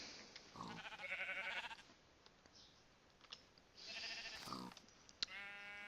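Sheep bleat in Minecraft, two wavering game bleats spaced a few seconds apart with soft clicking in between, no talking.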